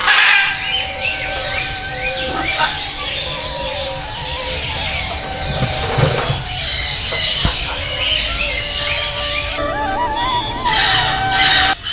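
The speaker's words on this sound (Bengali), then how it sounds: "একটু একটু মনে হয় শব্দ শুনতে পাচ্ছেন পাখির কিচিরমিচির" Birds chirp and squawk steadily at an outdoor garden picnic spot, with many overlapping tweets and calls at moderate distance over a low background rumble for the full stretch.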